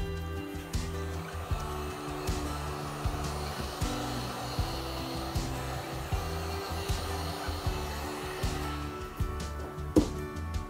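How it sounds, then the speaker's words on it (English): A heat gun blows steadily over resin flower coasters, a continuous close-up whoosh with a faint mechanical rattle and small periodic bumps throughout. "let's use a heat gun again."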